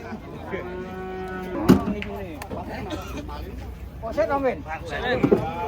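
A long-haired cow being unloaded from a truck moos loudly nearby in a long, drawn-out low call, followed by more lowing calls while people talk in the background.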